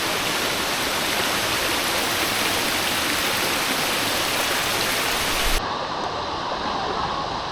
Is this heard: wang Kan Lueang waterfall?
yes